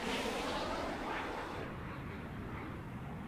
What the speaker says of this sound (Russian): Да это салют. В честь прибытия